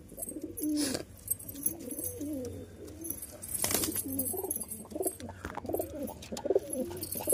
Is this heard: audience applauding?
no